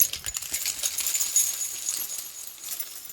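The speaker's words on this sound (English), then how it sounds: "Keys!" Metal drum tuning keys jingle and clink together on a carabiner, a bright rattling that comes in quick clusters and fades out, close by and without speech.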